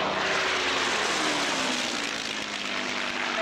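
A yellow-nosed Messerschmitt 109 propeller fighter drones past at an air tattoo, its steady engine roar broad and sustained, heard from a distance with a slowly falling pitch and no talk.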